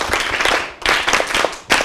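Lively applause from an audience at a Journée de l'Enfant Africain event, dense clapping filling the space in close, loud bursts that dip briefly and surge again.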